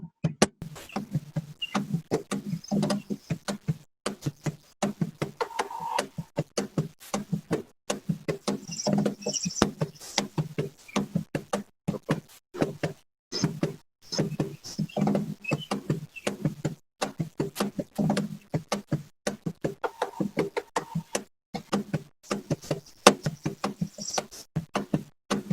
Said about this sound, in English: But if I'm playing the entire thing on the Cajon